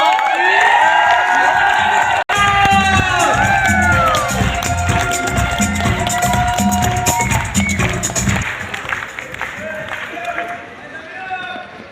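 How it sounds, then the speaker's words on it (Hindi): A big seminar crowd at a diamond celebration stands and claps loudly, with whoops and shouted cheers rising over the applause before it gradually fades toward the end. "एक बार जोरदार खड़े होकर के बहुत जोरदार तालियों से उस शख्स को"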